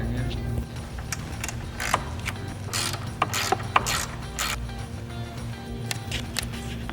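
A socket wrench ratchet clicks in quick uneven bursts, close and fairly loud, as a 10mm socket backs off a nut during an auxiliary switch bank install on a Jeep Wrangler JL, with faint background hum.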